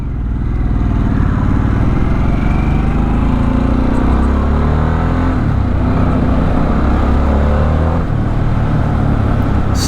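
A 2024 Harley-Davidson Sportster S rides and accelerates, its engine droning loud and steady close by as revs climb and shift through gears, with heavy wind rush layered over the whole stretch.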